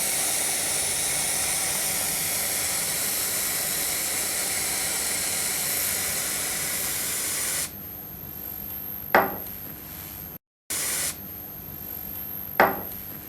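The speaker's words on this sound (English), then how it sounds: "We're cooling with a special freeze spray the first side" Steady hissing freeze spray aimed at a sample of perlite insulation plaster, a long continuous blast that stops suddenly, followed by quieter room noise with a couple of brief knocks.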